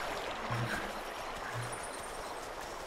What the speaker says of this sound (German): Das ist ganz schön laut da am Fluss